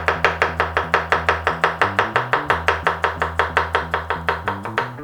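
Knife chopping cornichons on a cutting board, a fast, even run of crisp taps, close and loud, with no talk.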